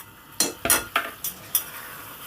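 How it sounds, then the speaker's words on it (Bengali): A spoon scrapes and stirs chili powder into spices frying in oil, five sharp clattering strokes over a soft sizzle, close and distinct with no talking. "লঙ্কার গুঁড়োটা দিয়ে খুব ভালো করে নেড়ে চেড়ে দিলাম"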